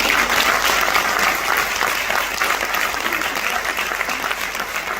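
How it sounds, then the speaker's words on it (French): An audience at a spring theatre show claps loudly and continuously, a dense wash of applause from many hands that fades slightly toward the end. "On peut les applaudir."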